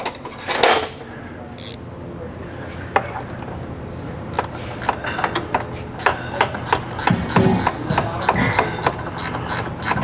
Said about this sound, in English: So I'm going to start to snug that down just a little bit so it's got more than a few threads on it.